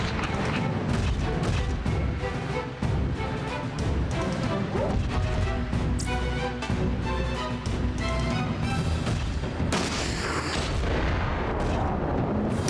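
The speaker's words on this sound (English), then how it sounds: "I really hate how the launchers can miss but still deal splash damage from their explosions." Launcher explosions and gunfire crash and boom almost continuously through a loud, dense battle in the mecha strategy game Front Mission 4, layered with busy game music and effects and no voices.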